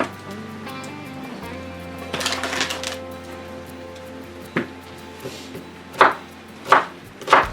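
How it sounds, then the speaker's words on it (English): An onion cut on a board, starting quietly and then giving a run of sharp, distinct knife strikes that grow louder, with three crisp chops spaced close together at the end. "Cut onion."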